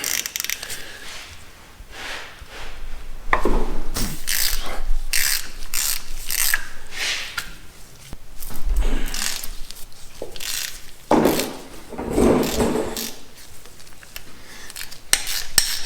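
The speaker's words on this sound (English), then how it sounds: "So you're going to undo the fill plug." Ratcheting wrench clicks in repeated bursts as the fill plug on a Jeep Wrangler's Dana 30/44 differential is undone, close and fairly loud, with metallic clanks between the rhythmic pawl clicking and no talk.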